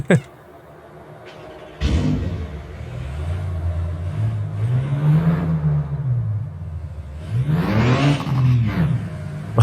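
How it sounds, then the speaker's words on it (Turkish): A Porsche 911 engine in Euro Truck Simulator 2 revs up and down repeatedly, a throaty exhaust growl rising and falling, with a sharp click at the start. "Egzoz sesine bayıldım."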